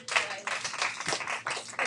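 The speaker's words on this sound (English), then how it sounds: "everybody give Riley a round of applause" A small group claps in a classroom, a steady patter of hand claps for about two seconds with some talk mixed in.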